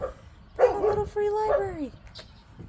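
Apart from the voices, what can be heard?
dog barking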